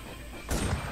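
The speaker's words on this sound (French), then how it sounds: "Y'a encore des tirs ou quoi?" A single sharp gunshot in the WarZ survival shooter game, a short loud burst with a brief rumbling tail over low background noise.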